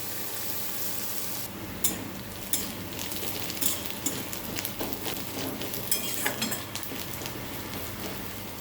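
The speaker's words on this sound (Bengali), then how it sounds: "জিনিসটা লাল লাল করে ভেজে দেবো" Ingredients fry in a pan until browned, making a close, steady sizzle with intermittent scraping and clinks of a spoon stirring against the metal.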